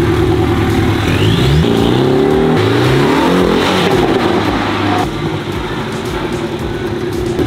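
A car engine revs loudly and close by while the car is driven along a street, the pitch climbing and falling through several throttle surges before settling into a steadier drone.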